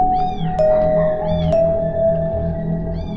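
A cat meows several times in drawn-out, wavering cries over a steady background hum, loud and close.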